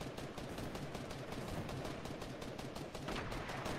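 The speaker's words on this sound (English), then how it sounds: "it takes forever for these sniper bullets to actually make it to their target" Rapid bursts of sniper rifle fire in the Fortnite video game, a dense string of sharp cracks repeating steadily and loudly throughout, with no voices over the shooting.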